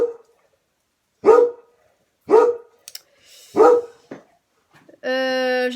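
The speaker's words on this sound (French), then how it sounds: "J'ai un chien qui a 15 ans, hein, donc il voit plus rien, il entend plus rien, et puis il se met à gueuler pour rien." A 15-year-old dog barks indoors: three loud, separate barks spaced about a second apart, followed by a short whine. No one speaks.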